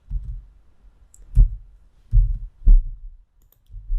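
Computer mouse clicking while creating a folder in a code editor, a few sharp isolated clicks spaced apart, near and clear against quiet low handling noise.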